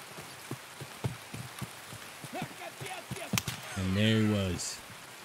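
Rain patters steadily in Escape from Tarkov woods while a voice talks over it, broken by a few sharp game impacts and a brief loud tonal burst near the end.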